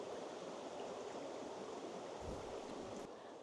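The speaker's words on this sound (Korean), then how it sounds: "시원하게 흘러가는 물소리가 듣기 좋고요." A mountain stream flows through an autumn valley, a steady, close, broadband rush of water with no voices over it.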